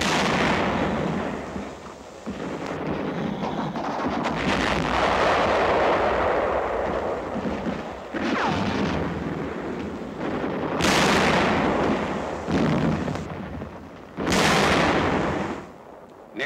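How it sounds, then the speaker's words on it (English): Heavy wartime combat blasts from a shell striking a tank boom out in a series of loud, rumbling explosions with broad crackling decays, several separate hits rolling across the scene without speech. "Tank suffers a direct hit, and the crew leaps from the flames."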